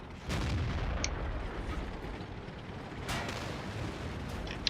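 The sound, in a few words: artillery tank gunfire in video game World of Tanks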